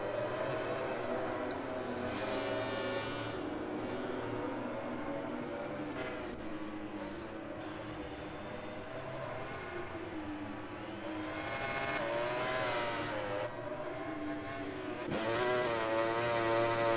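Ducati motorcycle engine in a racing game at the Circuit of the Americas, a steady whining, revving drone that holds throughout and rises toward the end, with no talk over it.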